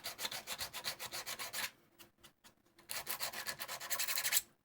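80 grit sandpaper rubs back and forth over a 3D printed part in rapid, rhythmic scratchy strokes, close and clear, with a brief pause between bursts of sanding.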